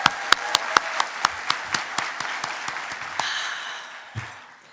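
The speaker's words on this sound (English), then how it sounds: "Let's give them another round of applause." Conference audience applauding after an opening at a Hispanics in Philanthropy annual event, a burst of loud sharp claps in quick succession that thins out and fades over a few seconds.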